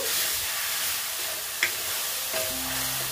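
Mustard-poppy paste for katla fish fries in a pan as a little water goes in, producing a steady close sizzle with a brief sharp spurt and faint stirring sounds, and no talk.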